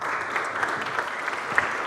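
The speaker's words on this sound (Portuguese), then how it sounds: "para quem eu peço o vosso aplauso" Even, sustained applause from a conference audience at a corporate ESG event as a speaker is called to the stage, a dense wash of clapping with a few sharper claps standing out.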